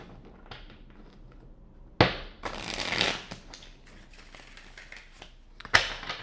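Tarot cards shuffled for a reading: two bursts of riffling and flicking, one longer at the start and a sharp snap near the end, with quieter handling between, close and alone.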